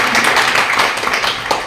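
Applause greeting a guest honoured at a Maithili community gathering in Bihar, a steady dense clatter of many hands clapping at close range, lasting under two seconds with no talk over it.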